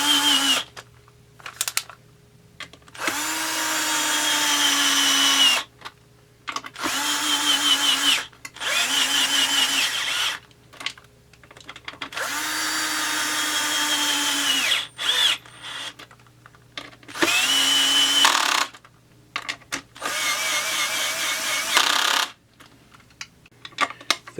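Power driver backing T27 Torx screws out of a Stihl MS660 clone chainsaw crankcase, several short whirring bursts of a few seconds each separated by quiet gaps, with faint clicks between runs.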